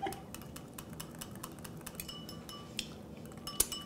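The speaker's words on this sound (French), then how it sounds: "on ajoute 75 ml d'huile d'olive graduellement en fouettant continuellement" A whisk working olive oil into a vinaigrette, with quiet, rapid, steady metallic clicks against a bowl, faint and close, and one brighter clink near the end.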